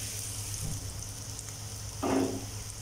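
Tomato and onion masala for a tinned tuna gravy sizzles softly in oil as it cooks down, a steady low fry with a brief louder burst of stirring near the end.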